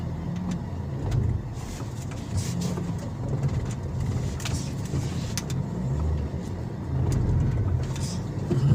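A Toyota Vios with delayed throttle response and weak pull in second gear drives and accelerates on a test run, its engine droning steadily in a low, continuous rumble with some road and cabin noise throughout.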